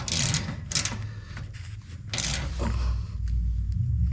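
A ratchet or wrench tightens a bolt on a Toyota Land Cruiser 200 skid plate, making several short bursts of close metallic clicking and scraping, followed by lower rustling and handling noise.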